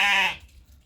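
A sheep bleats once loudly and close by at a wool-processing smallholding in Galway, a single nasal, wavering call that fades out quickly, leaving quiet room noise.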